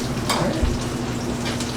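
Steak sears in a hot pan beside shallots, a steady close sizzle and crackle with a light stir or scrape partway through and no voices.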